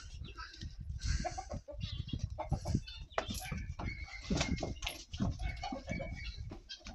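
Farmyard fowl sounds with clucking and rooster-like calls, busy and fairly close, amid rustling and general outdoor noise.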